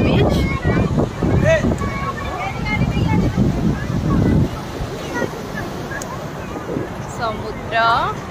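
Surf washes ashore at RK Beach in Visakhapatnam, a rolling roar mixed with wind buffeting, while people talk and shout nearby over the waves.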